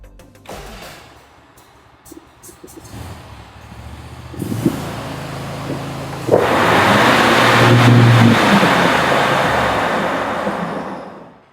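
Bad Boy 54-inch riding mower with worn spindle bearings starting up and running, the engine rising from a low rumble into a loud, harsh, grinding roar that holds steady before easing slightly.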